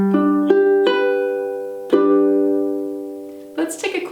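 A second ukulele fingerpicking pattern for a song: a few clean plucked notes and chords, spaced apart and left to sustain and decay, closing with a short strum, heard alone and close.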